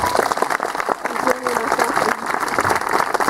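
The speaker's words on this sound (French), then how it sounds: "On peut l'applaudir." Audience applause for a tiger act at a medieval fair in Pierrefonds, a steady wash of clapping from a crowd at close to middle distance with voices mixed in.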